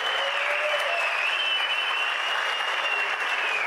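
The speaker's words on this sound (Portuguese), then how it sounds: "uma salva de palmas para o imperador Shen Nung" A lecture audience breaks into sustained applause, an even, continuous roar of many hands with a faint whistle-like tone running through it and no speech on top.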